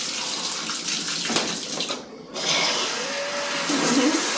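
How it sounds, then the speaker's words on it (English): Water runs from an LED shower head, a loud, steady hiss that cuts out briefly and then pours again, with faint background sounds. "And we can turn on the shower to test it."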